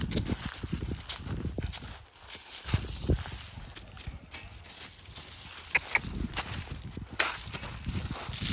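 A horse's hooves clip-clop on the ground outdoors in an uneven walking rhythm, with soft background noise throughout.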